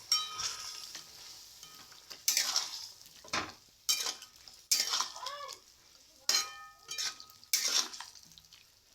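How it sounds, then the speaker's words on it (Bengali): Salted, turmeric-coated potatoes going into a pot of cooking chicken, heard as a soft sizzle broken by a series of clattering, scraping stirs and utensil knocks at a moderate distance. "মাংসতে আমি নুন হলুদ মাখানো আলুগুলো দিয়ে দেবো"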